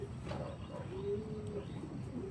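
Soft, low cooing from a pigeon, a few gentle drawn-out coos repeating over faint background hum, close but quiet.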